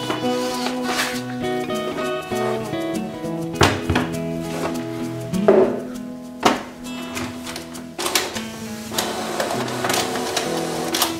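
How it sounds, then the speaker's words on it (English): A Canon PIXMA printer runs off a checklist page, its mechanism whirring and clunking in repeated passes with sharp thunks as the paper feeds and advances, heard close up with no voices. "And my printer just printed out a checklist paper."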